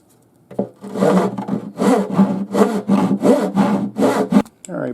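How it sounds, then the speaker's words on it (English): A rough file scrapes back and forth on the wood of a Seagull S6 guitar in about eight rhythmic, gritty strokes, close and clear with short pauses between them and no talk. "I found a fairly rough file. It's not really a rasp, but it should work for our purposes."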